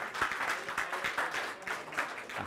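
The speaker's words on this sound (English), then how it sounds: "Come on, give yourselves a clap then." Small gathering clapping at a church teaching session on spiritual gifts, steady moderate applause running throughout without a break.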